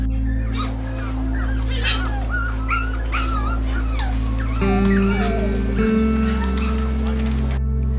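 A puppy on a puppy farm whimpers and yelps in high, wavering cries over a steady low hum, with a few short squeals close by.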